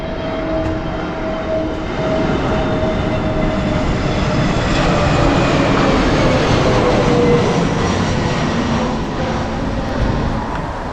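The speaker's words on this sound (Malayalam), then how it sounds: "ബ്രിട്ടീഷ് എയർവേസിൻ്റെ ഒരു ഫ്ലൈറ്റ് പോകുന്നുണ്ട്" A British Airways plane flies overhead on the Heathrow approach, a broad, loud roar with a faint whining tone that swells toward the middle and then slowly eases, heard alone without talk.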